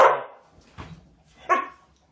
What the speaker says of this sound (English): Don't bark.